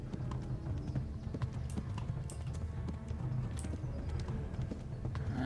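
Horse hooves galloping in the video game Kingdom Come: Deliverance make a rapid, continuous drumming of clip-clops at close range, with no talking.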